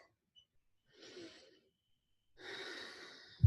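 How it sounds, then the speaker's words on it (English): Two slow breaths during a guided pain-relief session, a soft airy inhale followed after a pause by a longer, fuller exhale, close and quiet in an otherwise silent room. "Take a deep breath."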